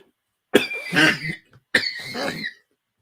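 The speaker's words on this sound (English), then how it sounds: "Cough, cough." Two rough, throaty coughs close to the mic, each a drawn-out hacking burst, separated by a brief pause.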